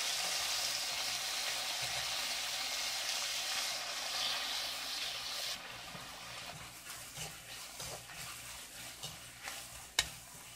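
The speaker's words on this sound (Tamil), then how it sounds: "இப்போ இதில் வெங்காயமும் பச்சை மிளகாவும் சேர்த்துடலாம்" Sliced onions and green chilies frying in hot oil for a Tamil chicken gravy, a dense, even sizzle with soft stirring scrapes that thins out toward the end, ending in one sharp clink, close up and with no voices.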